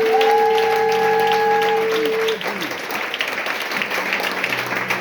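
Church congregation cheering and clapping during an evangelical service, a steady broad wash of applause with sustained tones over it at first, then the clapping continues more softly after a couple of seconds.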